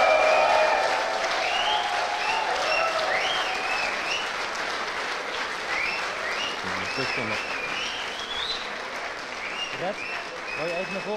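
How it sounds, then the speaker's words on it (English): A crowd at the Dutch StarCraft League finals closing ceremony applauds the league champion with sustained, dense clapping that fades gradually over the stretch, with some cheering and voices mixed in. "please one more round of applause for the champion of the Dutch StarCraft League"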